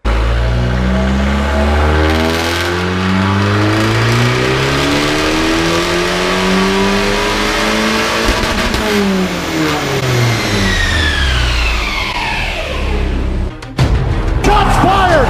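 Modified Abarth 595 with a big turbo upgrade revving hard, engine pitch sweeping up and down through repeated loud pulls, ending with sharp pops and bangs, close and dominant throughout.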